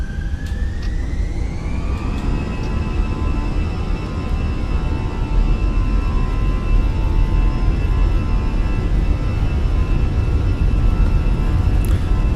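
Azores Airlines airliner engines spooling up to takeoff power on the runway, a steady loud roar with a rising whine that climbs and then holds, continuous and close.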